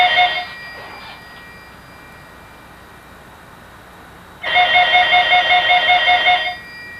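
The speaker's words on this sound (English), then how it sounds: "That's your phone." A telephone in an apartment rings with a bright electronic trill, one short ring followed after a long pause by a longer steady burst of ringing, fairly close and loud with no talk over it.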